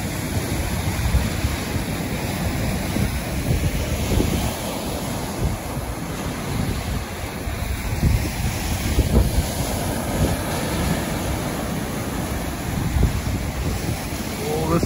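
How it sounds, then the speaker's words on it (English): Waves roll and break on Lake Ontario in spring, a continuous rushing surf mixed with heavy wind buffeting on the microphone, loud and close, with faint voices now and then. "That's the perfect wave."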